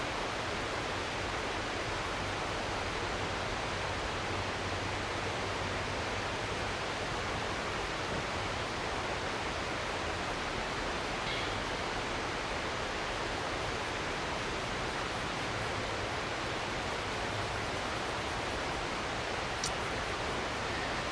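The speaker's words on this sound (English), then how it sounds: "water, the river kind of rushing in behind me there" A river rushes outdoors nearby, giving a dense, unbroken broadband roar that holds steady and loud for the whole stretch, with no voices over it.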